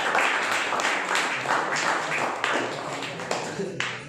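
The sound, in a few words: audience clapping hands at a speech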